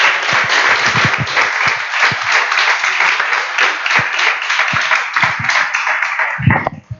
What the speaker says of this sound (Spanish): Muchas bendiciones y fuerte aplauso para el Señor Dios Todopoderoso